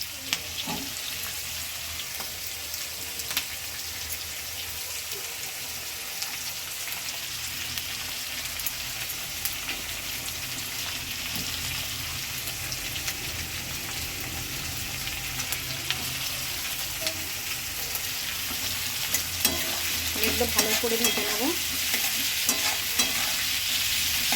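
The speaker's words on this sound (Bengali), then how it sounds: "খুব লাল লাল ভাজা হবে না হালকা করে ভাজা হবে" Capsicum and green chilli stir-fry for chicken manchurian in a pan, giving a steady, fairly quiet sizzle with light scraping of the spatula throughout, and no talk.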